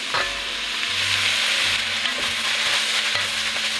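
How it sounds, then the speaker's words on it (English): Broccoli goes into a pan of sizzling sausage, a loud close frying hiss with stirring clatters and a few utensil knocks against the pan. "And now we're going to add the broccoli right in"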